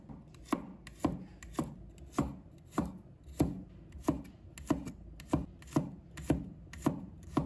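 Knife chops garlic into slices on a cutting board at home, about a dozen crisp, evenly spaced strokes in a steady rhythm, close and clear with no talking.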